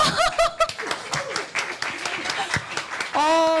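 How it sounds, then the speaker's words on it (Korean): An audience at a live book talk breaks into clapping mixed with laughter and chuckles, a dense burst of hands under the chatter, while voices talk and laugh over it near the start and end. "박수 한번 주세요"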